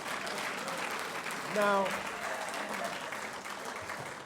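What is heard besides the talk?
audience applause in a mosque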